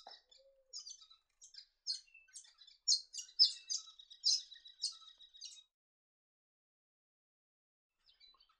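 Painted finches in arid, rocky spinifex country of Central Australia give a string of short, high chirps over about five seconds, then one faint call after a pause, with no other sound around them.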